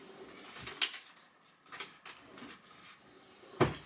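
A drawer in a craft room being pulled open, giving a few soft wooden slides and knocks spread across the moment, with a sharper clunk at the end, fairly quiet and close with no talking.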